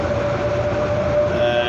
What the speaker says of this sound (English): And you see outside nice evening, and train is moving